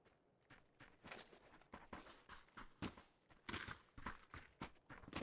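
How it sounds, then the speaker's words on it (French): Footsteps of another player in PUBG, a run of close, quick steps with an uneven rhythm, fairly quiet and heard alone with no talk. "Il y a un mec qui rentre dedans en tout cas, il y a un bruit de pas."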